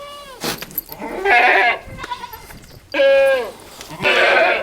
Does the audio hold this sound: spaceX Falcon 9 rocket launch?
no